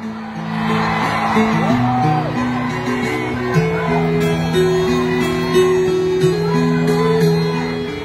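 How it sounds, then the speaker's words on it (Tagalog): A large crowd shouts and cheers at a peace rally in Davao, a loud, sustained roar of voices with whoops and steady tonal notes running through all eight seconds. "Isang malaking sigaw!"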